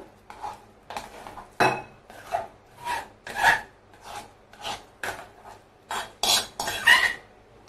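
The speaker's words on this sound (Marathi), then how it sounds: "आता हा बटाटा बघा आपण चांगला मॅशरनी बारीक करून घेतलाय" Boiled potatoes are mashed smooth with a masher in a pot, giving a close series of rhythmic scraping, squishing strokes, about one a second, with a few harder clanks of metal against the pot.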